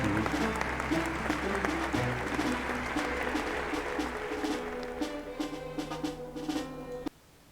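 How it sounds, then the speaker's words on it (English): Crowd-style applause from the game Decisive Campaigns: Barbarossa swells over steady background music, dense clapping holding for about seven seconds before cutting off abruptly. "Applause."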